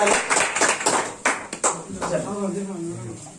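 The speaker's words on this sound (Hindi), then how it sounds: "जोरदार ताली से इनका स्वागत कीजिए राहुल जी को" Sharp hand claps in an irregular burst, welcoming a candidate selected for Army GD recruitment; the claps fade quickly and talking takes over.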